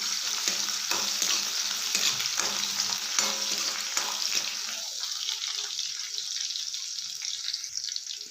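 Garlic and cumin sizzle and crackle in hot oil in a pan over a medium flame while being stirred, with steady frying throughout that eases slightly toward the end and no voices.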